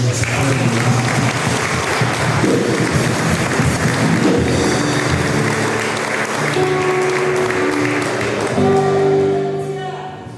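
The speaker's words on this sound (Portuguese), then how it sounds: "Você pode aplaudir ao Senhor." A church congregation applauds during a family worship service, with sustained loud clapping joined by ringing keyboard notes and a few voices, before fading near the end.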